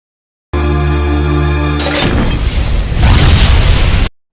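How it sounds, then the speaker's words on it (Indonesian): A big explosion in a film scene, as a leaking gas cylinder is hit: a sustained tonal rumble suddenly breaks into a loud shattering blast followed by a long, dense roar of debris that swells before cutting off. "Lalu terjadilah ledakan hebat."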